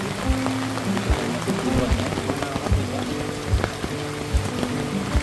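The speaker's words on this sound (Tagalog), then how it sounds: "patuloy pa rin po sa pag-ulan, no?" Steady rain patters on an umbrella held overhead outdoors during a downpour, with close, irregular drop hits and low thuds forming a continuous wet texture, and no talk over it.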